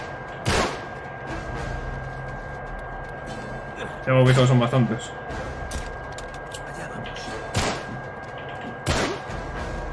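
Gunshots in an Uncharted 3 video game shootout in a hidden library: a few loud, sharp cracks spaced several seconds apart, with a heavier thud midway and someone talking over the game audio.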